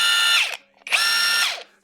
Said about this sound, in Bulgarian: безчетков гайковерт